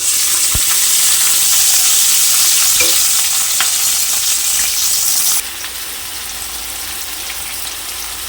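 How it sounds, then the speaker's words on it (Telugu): Sliced onions, green chillies and curry leaves crackle in hot oil for a crab curry, a loud, close, steady sizzle that drops slightly in level partway through. "ఆయిల్ బాగా హీట్ అయిన తర్వాత సన్నగా కట్ చేసిన ఆనియన్స్ అండ్ పచ్చిమిర్చి, కరివేపాకు వేసేసుకుందాం"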